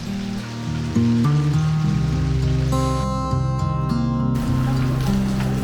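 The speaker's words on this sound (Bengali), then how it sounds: "এই রুমে বসে বসে জানলা দিয়ে বৃষ্টি দেখছি" Rain falling outside a window in Jakhama village, Nagaland, heard from indoors as a steady wash of patter, with a low droning tone and brief musical notes layered over it.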